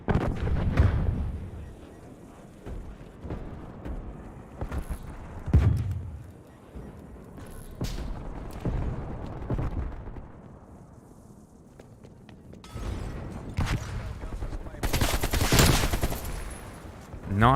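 Gunfire in a video game shootout: repeated bursts of shots and booming blasts across the whole stretch, loud and dense at the start and end with a quieter lull in the middle.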